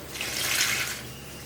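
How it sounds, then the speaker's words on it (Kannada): Water poured into rava dosa batter in a bowl, a brief soft trickling splash lasting about a second, fairly close. "ಇದು ಚೆನ್ನಾಗಿ ಮಿಕ್ಸ್ ಆದಮೇಲೆ ನೀರು ಹಾಕ್ಕೊಳ್ಳಿ"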